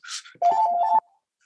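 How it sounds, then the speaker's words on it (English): Phone ringing with an incoming call during a keynote lecture: a short electronic ring tone of about half a second, loud and close, after a brief noisy burst, then silence. "there's a phone call."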